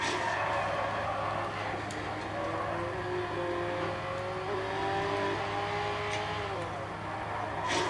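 A small Fiat car's engine revs steadily in the racing game Forza Horizon 2, its pitch climbing and settling in waves, with a loud, continuous drone that runs the whole time and no talking.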